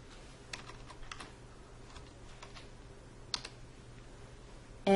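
Typing on a computer keyboard during a Linux install alongside Windows 7: a few quiet, scattered key clicks and taps in a hushed room, ending with a louder thump.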